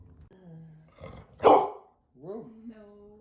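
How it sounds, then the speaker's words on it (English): A dog gives a few close, loud barks and growling, vocal sounds mixed with tonal whines, including one big forceful bark in the middle, in a quiet indoor setting. "that's a big bark"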